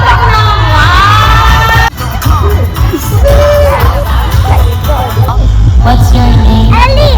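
A crowd of costumed children at a DIY trick-or-treat Halloween party in Dubai cheers, whoops and shouts loudly and close by, a sustained excited din with a brief dip partway through.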